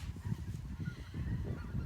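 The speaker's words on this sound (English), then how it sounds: "Do you hear the geese?" Geese honk faintly and far off outdoors, a soft, uneven run of repeated calls under a low background hum.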